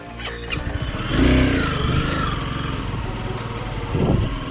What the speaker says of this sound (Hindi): riding bike here is a very extreme job